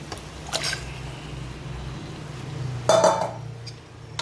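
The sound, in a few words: spice-marinated mutton added to pan with onion and tomato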